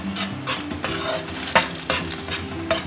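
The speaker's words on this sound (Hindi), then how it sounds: "हम इस तरह से मिक्स कर देंगे" A spoon stirs and mixes ingredients in a pan for vegetable spaghetti, with close scraping and clattering strokes over a soft sizzle and no voices.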